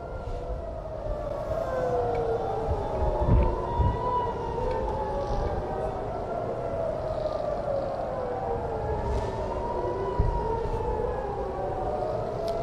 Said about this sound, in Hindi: ईरानी मिसाइल हमले के बाद इसराइल में सायरन बज उठे हैं।